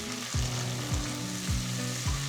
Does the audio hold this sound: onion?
yes